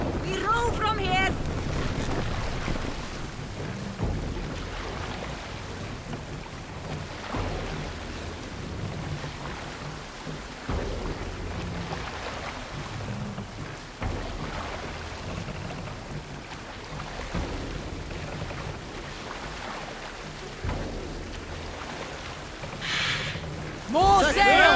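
A Viking longship from Assassin's Creed Valhalla runs under sail, with steady wind roar, rushing water and waves for the whole stretch, and voices talking over it now and then.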